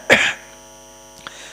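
A single sharp throat-clearing cough, close and loud, then a much fainter second catch about a second later, over a steady electrical hum with no talk.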